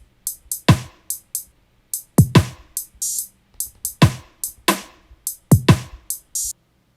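A basic dub beat built from an Ableton Live drum rack, with a steady loop of sharp snare and rimshot hits, crisp hi-hat ticks and soft low kicks, sparse and echoey, repeating evenly with no voices.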